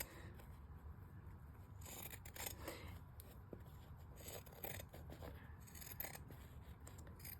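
Scissors trim the edges of a soft fabric journal cover, giving close, steady snipping and scraping strokes throughout with no talking.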